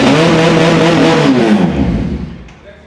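A BMW S1000RR replica motorcycle, 2025 model with a 400cc water-cooled EFI twin and aftermarket exhaust, revs hard and loud with a rising throaty note, then the engine settles and fades toward idle.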